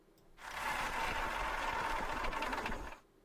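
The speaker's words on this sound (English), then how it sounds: "start the engine" A truck engine in American Truck Simulator starts up, then runs at a steady, loud, rumbling idle for a few seconds and abruptly cuts off, with no talking over it.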